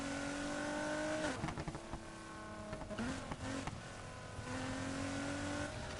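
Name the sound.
car engine revving in the video game Need for Speed Heat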